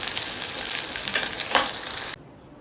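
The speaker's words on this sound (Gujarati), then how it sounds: "આવી રીતે હવે બીજા ભીંડાને પણ આપણે તળી લઈશું." Okra fries in a shallow layer of oil in a pan, giving a steady close sizzle with brief louder crackles before cutting off abruptly to near silence.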